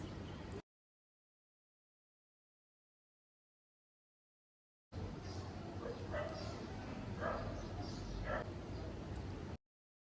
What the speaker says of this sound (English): these dogs keep barking